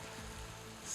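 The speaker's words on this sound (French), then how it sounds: "il se met à pleuvoir fortement" Heavy rain falls outside in a soft, continuous patter, with faint low thumps beneath the steady hiss of drops.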